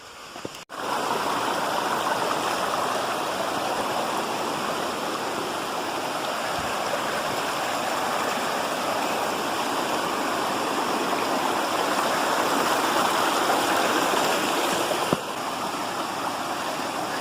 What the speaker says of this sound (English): Lots of stream crossings.